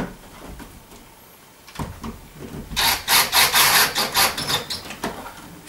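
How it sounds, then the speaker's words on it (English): Cordless power drill driving screws to fasten an electrical outlet box into a wall during TV-mounting work, heard as a loud burst of stuttering high-pitched whirs after a few soft handling sounds, close by with no talk. "I'm going to use my drill."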